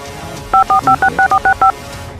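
Telephone keypad tones as a number is dialed: eight short, evenly spaced beeps in a quick run, loud and close over a faint background hum.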